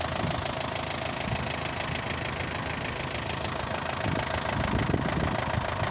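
An Isuzu NPR diesel truck engine idles after being started: a steady, loud, close rumble with a knocking clatter that continues throughout, with no talk over it.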